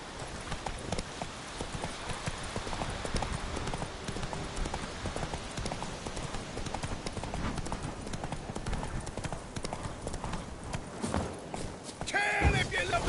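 Roach the horse gallops in a video game, rapid steady clip-clop hoofbeats running close and continuous over a busy game soundscape, with some voices mixed in.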